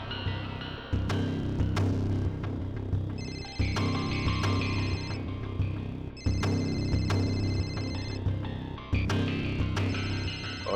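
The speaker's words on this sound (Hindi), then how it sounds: "और ये जो बेल बज रही है," A telephone rings repeatedly in an office, with regular bursts of a bright electronic ring over a busy, music-like background.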